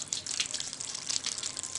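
Water runs steadily through a Reynolds experiment apparatus, a continuous soft hissing flow with no talk.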